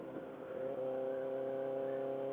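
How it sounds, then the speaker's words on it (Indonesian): A motorcycle fitted with a loud aftermarket brong exhaust revs with a steady, throbbing, muffled drone that builds slightly and holds, ending with a brief burst. "Kita pakai knalpot brong lagi."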